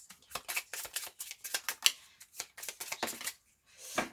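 Tarot-style cards are laid down one after another to cover a row in a Belline card reading, giving a quick series of soft, close slaps and papery flicks with short pauses and no talking.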